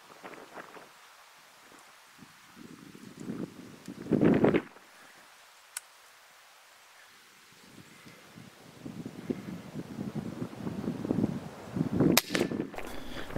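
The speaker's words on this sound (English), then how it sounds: "Again, the Kral Puncher Breaker, 25 caliber, did the job for me." A .25 caliber Kral Puncher Breaker bullpup air rifle fires once at a rabbit outdoors, a sharp crack around the four-second mark set against rustling and wind noise, with a small second click following a moment later.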